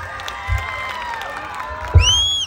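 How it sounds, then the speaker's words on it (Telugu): A festival event crowd clapping and cheering, with a loose wash of applause and shouts mixed with tonal music and a bright whistle-like sweep near the end. "బాగుంటే చప్పట్లు కొట్టండి"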